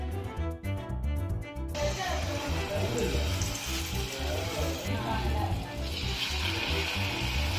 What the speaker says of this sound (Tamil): நம்ம கட் பண்ணி இந்த பனானாவை அப்படியே அந்த மாவில் அப்படியே மிக்ஸ் பண்ணி ரெண்டு சைடும் மசாஜ் பண்ணி அந்த எண்ணெய்க்குள்ளே போட்டுற வேண்டியதுதான்.